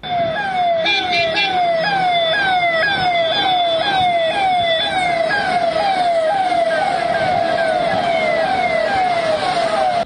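A convoy of vehicles drives past with sirens wailing continuously, rapid repeating up-sweeps, loud and close over steady traffic rumble throughout.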